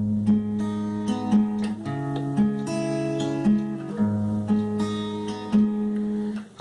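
Fingerpicked acoustic guitar chords from a song from The Last of Us Part 2, played alone as a steady, close arpeggiated pattern of ringing plucked notes with regular chord changes, no voices present.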